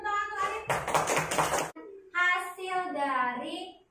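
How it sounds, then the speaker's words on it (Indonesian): A brief burst of clapping from children in a classroom for a classmate, lasting about a second, surrounded by children's voices talking before and after. "kasih tepuk tangan untuk Arif"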